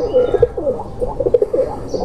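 A Kuwaiti teddy pigeon coos close by in a series of soft, rolling throaty calls repeating over about two seconds, with faint background noise.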